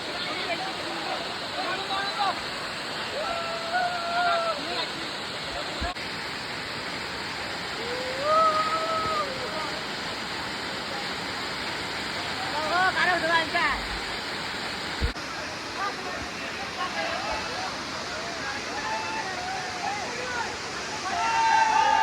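Khoiyachora waterfall in Sitakunda, Chattogram, roars as a constant broadband wash of falling water, steady and enveloping, with faint bird calls and brief voices in the background.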